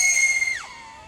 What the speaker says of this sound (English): I want to give you guys a quick noise test to give you an idea of what this drone sounds like